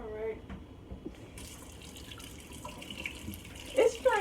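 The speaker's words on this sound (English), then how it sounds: "So I'm about to rinse off the greens." Collard greens rinsed under a running tap in a kitchen sink, a fairly quiet steady stream of water with a few louder splashes near the end and a voice heard faintly at times.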